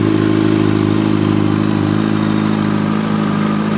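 A Kawasaki Ninja motorcycle engine runs in first gear with the clutch held, a steady, close, loud mechanical drone with a faint clatter and no speech.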